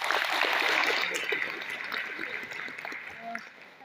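Audience clapping at an RCM business meeting in Dhubri, Assam: a dense, steady wash of applause from a crowd, loud at first and gradually thinning over a few seconds.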